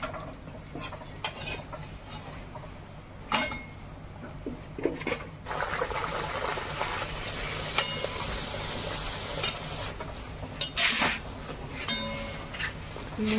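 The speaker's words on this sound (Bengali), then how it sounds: "এবারে লুচিগুলো ভেজে নিচ্ছি।" Luchi, puffed Bengali flatbreads, deep-frying in hot oil, giving off bursts of hissing sizzle along with scattered clinks and scrapes of a utensil against the pan.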